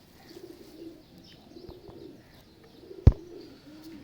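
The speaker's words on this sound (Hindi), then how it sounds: "ये माशाल्लाह जी ये मिस्त्रियों वाले कबूतर हैं दोस्त" Male Mistri-breed pigeons coo softly in low, repeated murmurs, with a single sharp click cutting in near the end.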